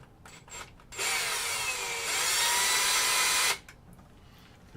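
A power driver runs screws into a 3D printed part, one whirring burst of about two and a half seconds that rises slightly in pitch, close and clear between quiet handling sounds.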